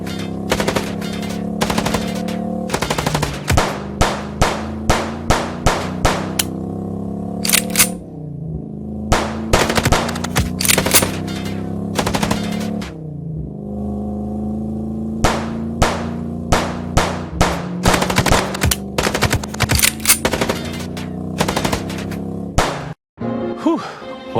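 Loud bursts of gunfire ring out in a cutscene from the video game Chicken Police, sharp repeated shots in fast volleys over a droning music bed.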